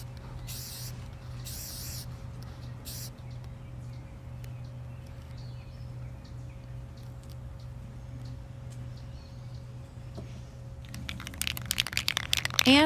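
Several short hissing bursts of spray paint onto a tumbler, a few early on and a denser cluster at the end, over a steady low electrical hum.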